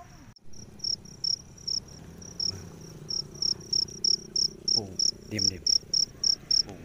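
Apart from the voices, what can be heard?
field crickets chirping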